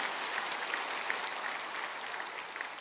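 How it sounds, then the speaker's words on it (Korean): A large church congregation at a special dawn prayer service applauds the choir with a dense, even wash of clapping, heard from a distance and holding steady throughout. "귀한 찬양으로 은혜를 주신 우리 찬양대에게 뜨거운 감사의 박수 한번 주시겠습니다"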